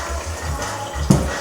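Kava drink poured through a tea strainer into a bowl: a soft, steady trickle of liquid with a brief louder splash near the end, close and without talk.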